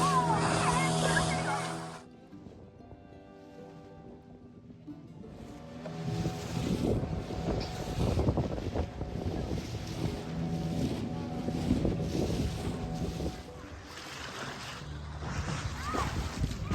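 A boat motors several kilometres out at sea off Devbag near Malvan on the Konkan coast, its engine droning under buffeting wind noise, with a brief quieter lull before the rushing wind and hum return.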